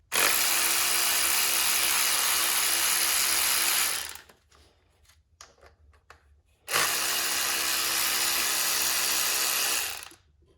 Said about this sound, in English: I got this tool, this battery powered ratchet that I wanted to give a try and see how it does.